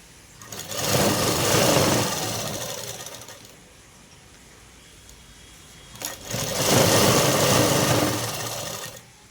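A sewing machine runs a loose stitch along elastic on a dress, in two sustained bursts of steady mechanical whirring with a quiet pause between them.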